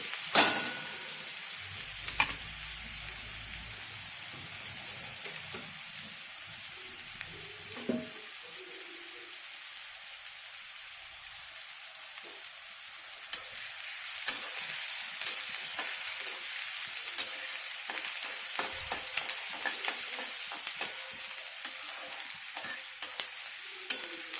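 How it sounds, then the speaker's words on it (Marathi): Onion stir-fried in a pan until reddish-brown for a quick vegetable dish, a steady hissing sizzle with occasional clinks and scrapes of stirring, close and continuous with no talk. "चांगला लालसर होईपर्यंत परतून घ्यायचा कांदा"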